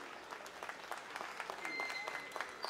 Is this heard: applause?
yes